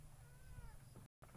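A cat meows once, faint and drawn out, against a loud, steady rumbling background, with a brief dropout near the end.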